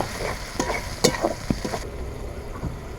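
Liver fries with whole garam masala and onions while being stirred, giving a close, steady sizzle. Scraping strokes and soft knocks from the spoon break through at irregular intervals.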